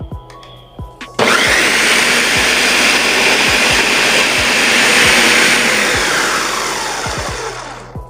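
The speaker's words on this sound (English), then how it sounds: "So let's blend it on up." A countertop blender purees keto pizza sauce, starting after a second of quiet with a few light clicks, then roaring loud and steady for about seven seconds before slowly winding down near the end.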